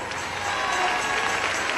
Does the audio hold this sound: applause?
yes